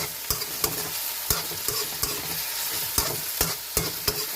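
Dried fish added to a sizzling mung bean stew with moringa and squash, with a spatula clanking against the pan in a regular rhythm of about a dozen knocks over a constant frying hiss, close and without talk.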